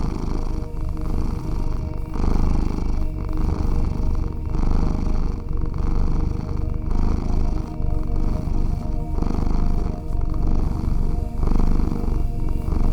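A loud, close cat purr rumbles continuously in steady rhythmic pulses, with no other sounds.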